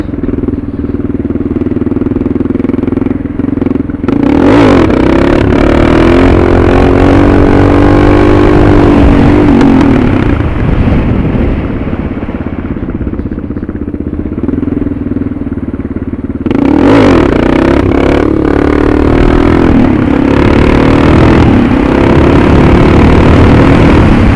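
A Suzuki DR650 motorcycle engine fitted with a Procycle jet kit revs loud and close while riding, pulling hard in two surges with a slight hesitation and stutter between them, no talking.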